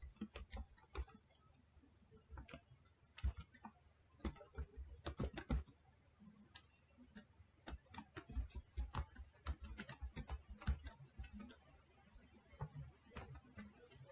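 Fast typing on a computer keyboard while writing code, a steady run of sharp, close key clicks in uneven bursts with short pauses, quiet and with no talking.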